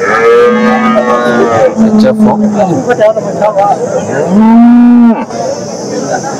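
Cows low repeatedly at the Chintamani cattle market, several long, loud moos close by over crowd noise and people talking nearby.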